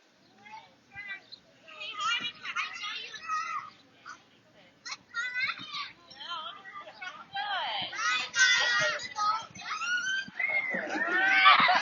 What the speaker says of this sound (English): Oh my God, do you hear all the screaming?